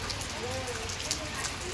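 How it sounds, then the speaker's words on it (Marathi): Steady rain pours down around a house, with water running onto the porch, making a dense, even hiss with scattered drip taps, fairly close. "आजूबाजूने येणारं सगळं पावसाचं पाणी ना फोर्चमध्ये येतं आहे"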